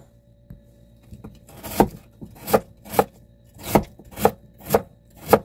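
A knife slices through radish on a cutting board in a series of about seven crisp, close strokes, spaced roughly every half second and growing more regular toward the end, with no talking.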